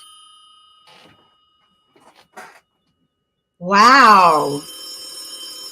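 A red telephone rings once with a loud, bright bell-like burst after a few faint clicks, and a voice briefly exclaims nearby.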